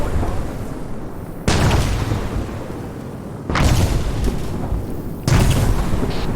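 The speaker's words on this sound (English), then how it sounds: "After this current artillery bombardment has ceased" Artillery bombardment in ArmA 3, with three heavy booming impacts arriving a couple of seconds apart, each a loud broadband blast that rumbles on and decays before the next strike.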